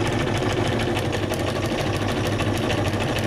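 Sewing machine stitching paper pages for a junk journal, a steady fast mechanical whir with rapid needle clatter running continuously and close.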